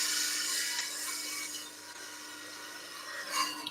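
A woodturning chisel cuts a wooden spindle on a lathe, making a steady rasping, rubbing hiss over a low motor hum, close and without talk.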